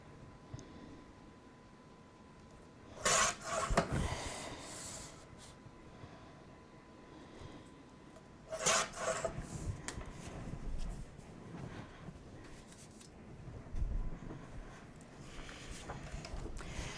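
Paper sheets for a scrapbook album insert page are cut, with a few distinct brisk slicing or trimming strokes at intervals amid quiet handling noise, fairly close.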